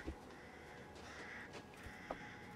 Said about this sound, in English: Are there any more crows up ahead that I can shoot and see?